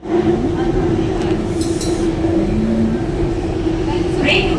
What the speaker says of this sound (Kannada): Train will arrive in Vajrahalli